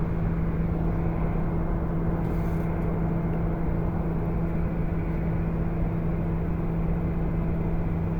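A TBM 900 turboprop drones steadily in the X-Plane 11 flight simulator, a constant, even engine hum with a fixed tonal whine and no change in pitch, heard alone.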